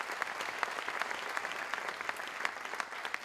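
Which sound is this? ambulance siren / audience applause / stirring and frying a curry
audience applause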